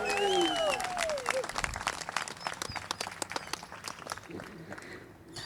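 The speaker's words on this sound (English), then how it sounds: "Can we get a big cheer for our bride and groom?" Wedding guests cheer and applaud the bride and groom, whoops and dense clapping that start loud and then thin out, with scattered voices through the crowd.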